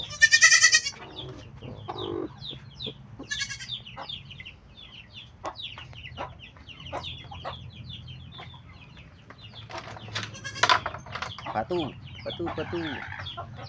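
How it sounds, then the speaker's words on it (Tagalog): A young goat bleats on a farm, its calls mixed with clucking chickens and other fowl nearby. A faint low hum sits under the scattered animal sounds. "Itong nag-iisang anak ng kambing ko."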